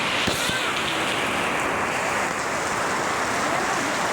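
Heavy rain pours steadily in a dense, unbroken roar, with a couple of faint knocks near the start.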